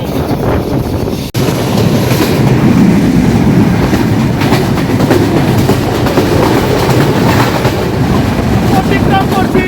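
Banalata Express train running on the Dhaka to Rajshahi line, heard loud and close from the open door, with a constant rumble, rhythmic wheel clatter and heavy wind buffeting throughout.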